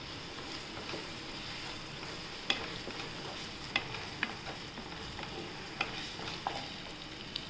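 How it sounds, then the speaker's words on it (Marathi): Onion and garlic sizzle in hot oil in a pan, a steady soft frying hiss with occasional sharp pops and stirring scrapes, fairly quiet and without talk. "कांदा छान परतून घेऊया आपण छान तेलात कांदा परतून घ्यायचा"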